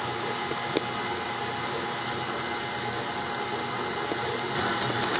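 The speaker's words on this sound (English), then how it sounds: "I'll put this on low. That's as low as this one will go. And I'm going to let it mix." A stand mixer churns pizza dough on its lowest speed, a steady, even motor whir with a faint mechanical hum running unbroken and fairly close, with no talking.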